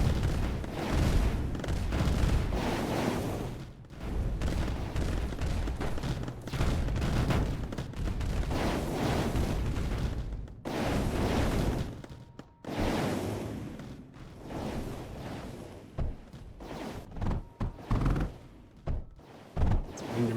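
An enemy base fires on tanks in the factory strategy game Mindustry, with heavy booming shots and dense bursts of gunfire repeating steadily through the clip and only brief lulls in between.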